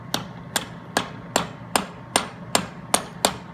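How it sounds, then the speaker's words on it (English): Ball peen hammer gently tapping a rivet into a soft flip-flop foot pad, nine light, evenly spaced taps about every half second, close and crisp with no talking. "I usually like to use the ball peen hammer so it goes down in there a little"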